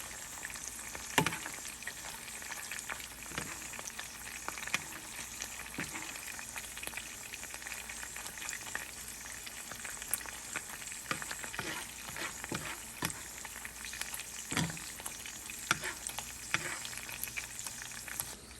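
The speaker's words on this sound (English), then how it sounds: "With the sizzle on it." Snipe meat sizzles steadily in a frying pan, a soft continuous crackle with scattered pops, fairly quiet and without talk.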